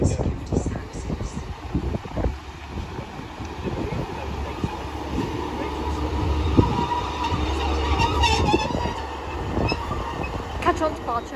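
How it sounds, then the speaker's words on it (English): Transport for Wales train pulling out of Treforest station in the South Wales Valleys, a steady rumble and clatter of wheels on rails with higher squeals, heard at fairly close range from the platform. "departing now is the 1146 Transport for Wales service from Barry Island to Pontypridd"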